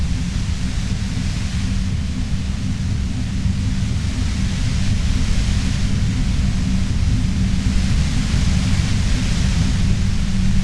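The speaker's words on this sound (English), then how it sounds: "Aggressive white noise fills your skull, a strange pain like you've never felt before." Harsh, aggressive static hiss in the video game Disco Elysium, a dense steady roar of broadband noise with a heavy low rumble, loud and unbroken throughout with no speech.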